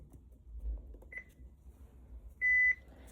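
A Baxter Home Choice Claria peritoneal dialysis machine gives a short electronic beep after its green button is pressed, then a longer, louder tone a moment later, both clear against a quiet room.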